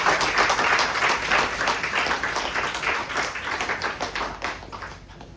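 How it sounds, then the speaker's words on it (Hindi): Audience at a network marketing seminar applauding, a dense, steady wash of many hands clapping close by for the whole stretch, easing slightly toward the end. "एक और ताली बजा दीजिए।"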